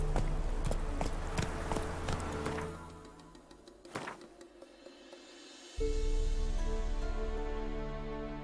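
Roach the horse from The Witcher 3 gallops with rapid, steady hoofbeats that stop midway, followed by a short pause and then renewed movement over a droning game background.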